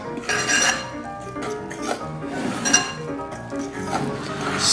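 Dough being stirred in a bowl after 1.5 cups of warm water is poured into the dry ingredients, giving a steady run of scraping, clinking strokes close by.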